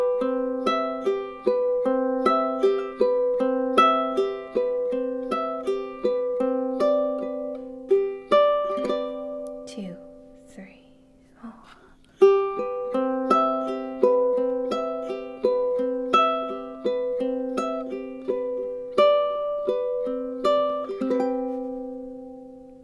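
A steady, bright fingerpicked acoustic guitar pattern of plucked single notes played without barre chords runs alone at close range, briefly thinning to a pause before resuming and ending with strummed chords.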